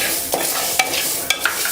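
Green gram dry roasting in a kadai, giving a soft, continuous rattle and scrape of stirring with a few sharper clicks of lentils against the pan, steady and close with no talk.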